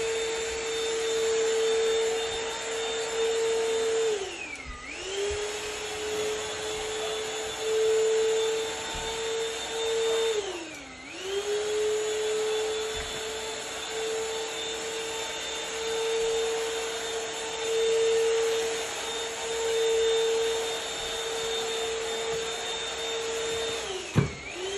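A Shark VacMop vacuum cleaner runs continuously with a steady whine, its pitch briefly dipping a few times as it sucks up confetti.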